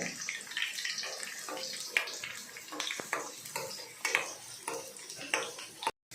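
Garlic cloves sautéed and stirred in a pan for an Indian gooseberry pickle make a quiet sizzle, broken by clinking and scraping of a utensil against the pan, close and faint, ending in a short silence.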